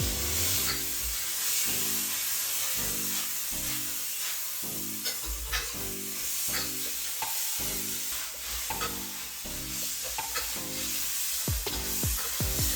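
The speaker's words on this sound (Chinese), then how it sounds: "像这样翻炒几下" Pork sizzles with light and dark soy sauce in a wok, a steady hiss and spatter under rhythmic scraping strokes from the stir-frying, close up and continuous, with no talk.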